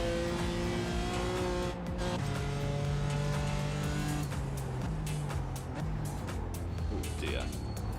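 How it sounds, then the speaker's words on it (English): BMW M4 GT4 race car in a racing video game, its engine droning steadily with pitch steps at gear changes and a rising rev near the end, loud and close throughout, with someone talking over it. "So here we are in the lovely Bmw M4 Gt4 car"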